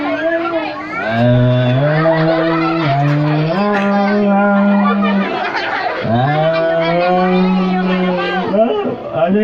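A voice imitates a water buffalo (carabao) with long, loud, drawn-out lowing moos, two sustained calls with a brief break between them.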